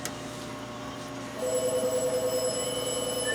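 A telephone bell rings steadily in repeated bursts against a low background hum, growing louder partway through.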